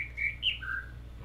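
Three short whistled bird notes from The Witness game, rising then dropping in pitch, near and clear before fading to quiet hum.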